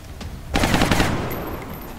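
Gunfire in XCOM Long War: a sharp burst of rapid automatic shots erupts after a brief quiet, then rings out and decays into a lingering tail.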